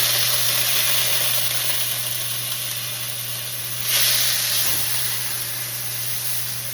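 Peppers, onions and garlic hit hot avocado oil in a pan, giving a steady, close hiss of sautéing that holds evenly throughout, with a brief surge partway through and a faint low hum beneath.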